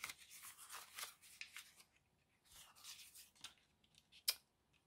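Scissors trimming paper for a junk journal, a series of quiet snipping and rustling strokes in short bursts, close and faint with no talk.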